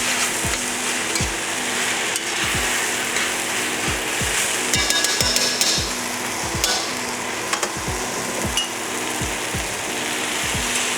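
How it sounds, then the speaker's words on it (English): A sizzling mixture is stirred in a hot pan, with a loud, close, rhythmic scrape roughly every half second over a continuous frying hiss and a few brief metallic clicks. "And I give it one more stir."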